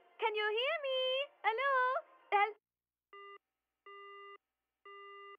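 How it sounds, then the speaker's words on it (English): In the video game No More Heroes, a voice calls out a few times, then a bad phone connection gives a busy signal of three evenly spaced, clean electronic tones, faint and isolated. "I'm getting a bad connection."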